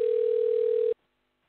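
A steady telephone dial tone sounds loud and alone for about a second while a guest is being called, then cuts off abruptly to silence.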